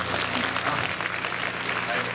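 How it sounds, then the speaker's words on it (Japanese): An audience claps steadily through a baseball talk show with two Chunichi Dragons players at an agricultural fan appreciation festival, a dense continuous patter with voices speaking over it. "皆さん、もうそうさせないという意味で拍手をお願いできますか"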